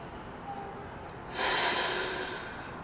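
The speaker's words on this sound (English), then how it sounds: "Big deep breaths." A single deep breath during a vinyasa yoga flow, a faint hushed exhale that swells midway and slowly fades, close and quiet with no talking.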